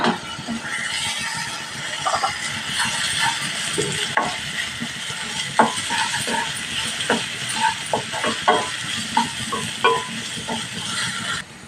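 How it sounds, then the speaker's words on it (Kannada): Ginger-garlic paste sizzles in hot oil with fried onions and salt while making pav bhaji, a steady frying hiss with scattered clinks and scrapes of a spoon stirring throughout, close and alone with no talk. "1 ಸ್ಪೂನ್ ಶುಂಠಿ ಬೆಳ್ಳುಳ್ಳಿ ಪೇಸ್ಟ್ ಹಾಕ್ತಿದ್ದೀನಿ ಇವಾಗ"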